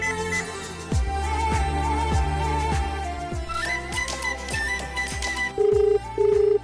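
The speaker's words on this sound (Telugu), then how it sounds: "సీతకు ఫోన్ చేద్దాం." A telephone rings in a Telugu television serial: two short electronic ringtone bursts sound near the end over ongoing background music.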